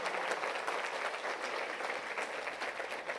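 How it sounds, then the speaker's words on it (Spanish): Steady, sustained applause from a church congregation clapping loudly for the Lord during a Sunday sermon, a dense even wash of hands with no voices standing out. "si vas a aplaudir, aplaude fuerte para el Señor."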